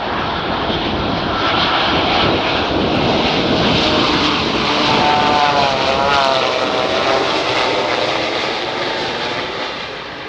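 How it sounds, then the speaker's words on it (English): Boeing 787 airliner flying past at a test facility, a broad continuous engine roar that swells and holds steady, loud and close with a slight whine, no voices. "Here's another example of a 787 coming in at a Boeing test facility. And listen as it flies by."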